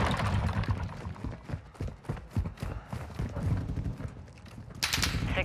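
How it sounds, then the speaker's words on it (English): Rapid gunfire in the video game Modern Warfare 2, with bursts of sharp shots rattling in quick succession, a loud blast near the end, and no talking. "They're shooting at me!"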